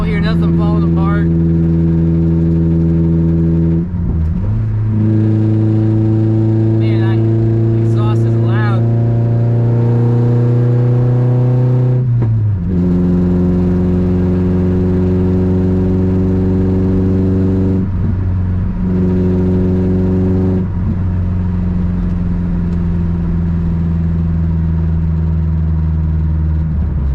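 A truck's engine runs steadily while driving after sitting for a month, with harmonic drone shifting in pitch through gear changes and acceleration, loud and close from inside the cab, with someone talking at times.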